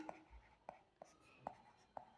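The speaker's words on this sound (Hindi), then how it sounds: "मैं यहाँ लिख देती हूँ" Chalk or marker writing on a classroom board, five short, sharp taps and strokes spaced at a steady pace, quiet and close.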